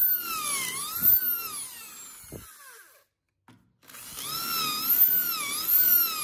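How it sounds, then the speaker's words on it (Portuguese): Power drill boring a hole for a baseboard leveling foot, a whining spin that rises and falls, cuts out for a brief silence, then whirs again, close up with no talk. "Então eu venho e realizo o furo"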